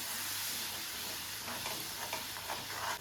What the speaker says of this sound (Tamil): இப்போ இதை அப்படியே எல்லாத்தையும் ஒன்று சேர்த்து நம்ம கலக்கி விடணும்.